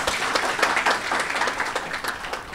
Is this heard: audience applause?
yes